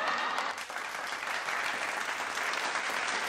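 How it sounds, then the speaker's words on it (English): Continuous audience applause at a live comedy-style ranking show, steady and full-bodied for several seconds with no talking over it. "That deserves a round of applause."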